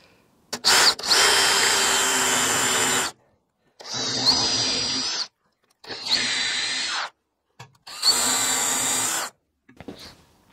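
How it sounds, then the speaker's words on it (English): A power drill whines in four bursts of a few seconds each, grinding through wood up close, with short silent pauses between runs. "so we can drill the rest of the hole out"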